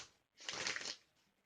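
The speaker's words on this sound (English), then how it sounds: "We're going to go ahead and use the vice versa tarot cards just for a pre-shuffle." A brief riffle of tarot cards being shuffled, one quick burst of papery flutter, close and fairly soft in a quiet room.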